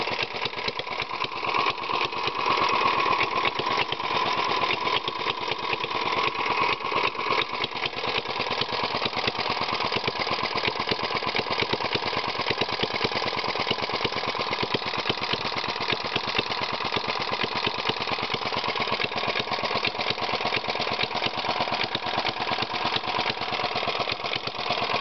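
A Briggs flywheel engine fitted with a clear plexiglass valve spring cover runs steadily at a moderate idle, a close, continuous chugging drone with no talk over it.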